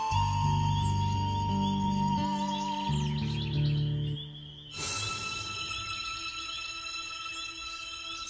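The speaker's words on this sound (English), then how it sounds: "Suddenly, he hears baby birds start screaming as if someone is attacking them." Baby birds chirp and tweet shrilly in a cartoon setting, with steady bird calls sounding over a music bed, then an abrupt rise into louder, more frantic chirping.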